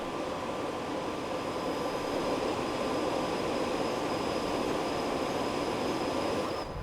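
Train on the West Coast Main Line between Preston and Carlisle in Train Sim World 5, a steady rumbling roar of a train in motion with a faint high whine, continuous and even, no talking.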